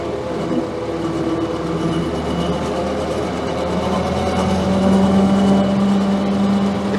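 1928 Austin 12 Heavy vintage car driving in second gear, a steady mechanical engine drone with rising whine and rattling, heard close from on board, growing slightly louder toward the end.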